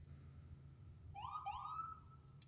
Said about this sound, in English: and there goes the sirens